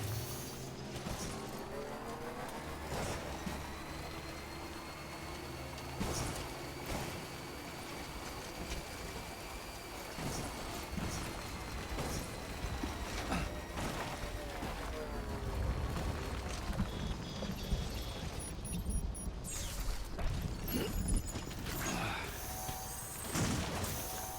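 Steady rain in the video game Death Stranding, a dense continuous wash of noise holding evenly throughout, with game sounds layered underneath and no talking.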